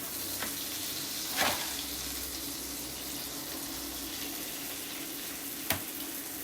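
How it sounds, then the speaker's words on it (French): Butter melts in an electric bain-marie appliance with a soft, steady sizzling hiss. Two faint clicks break the continuous sound. "Tant que le beurre fond, je peux vous le montrer."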